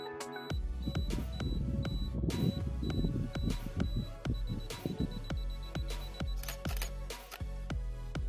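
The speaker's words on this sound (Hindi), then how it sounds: "दोस्तों, मैं टाइमर के मदद से इस फोटो को क्लिक करने वाला हूँ।" A Canon EOS 1500D fitted with a 55-250 lens counts down on its self-timer: a clear run of evenly spaced electronic beeps, close and fairly loud, before the shot.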